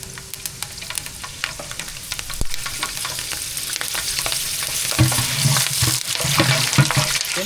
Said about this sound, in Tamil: பச்சை மிளகாய் நல்லா வதங்கிடுச்சு